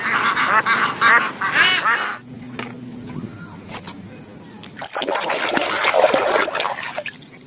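A duck quacks in short nasal bursts at the start of a children's animal-cleaning game, followed by quieter clicks and game sounds and then louder, busier effects.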